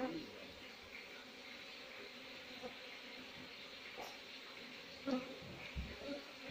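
An agitated Apis cerana honey bee colony gives off a faint, continuous buzzing hum, with soft thumps and handling noises scattered over it near the end.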